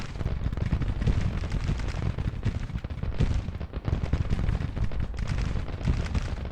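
Massed rifle fire and artillery in a Civil War battle in the video game Grand Tactician, dense overlapping volleys and booms crackling continuously at a loud, steady level without any voices.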